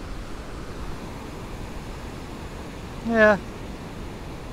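Ocean surf at Far Rockaway beach in Queens on a sunny day with 3 to 4 foot waves, a steady, soft wash of breaking water and wind hiss, with a short spoken word over it near the end.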